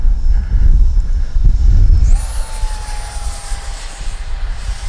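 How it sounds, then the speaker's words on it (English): A small radio-controlled model jet flies past, its engine whine rising into a sharp high-pitched tone over rumbling wind and handling noise, loud and close, with no talk. "Oh man, what a great little jet."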